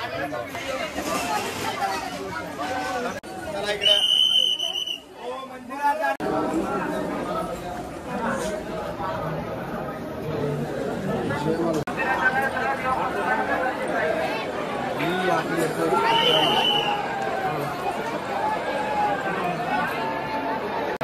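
A dense crowd at a temple in Jejuri on a busy Sunday, with a continuous babble of many voices and footsteps, and a nearby person talking over the hubbub.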